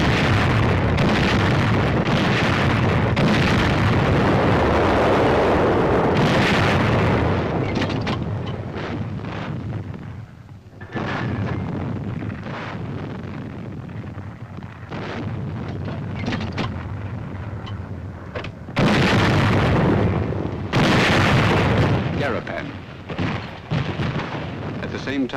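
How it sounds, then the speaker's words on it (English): Army artillery fires during the 1944 battle for Garapan on Saipan, a series of heavy booming blasts amid rumbling noise and wind, with a narrator speaking over parts of it. "Army artillery goes into action."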